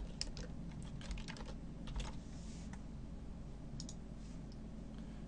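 Fingers tap out a quick burst of keystrokes on a computer keyboard, clicking in short clustered runs over a quiet room hum, then trailing into sparse single taps; nobody speaks.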